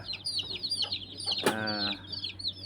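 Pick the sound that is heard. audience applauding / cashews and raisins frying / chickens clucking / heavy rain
chickens clucking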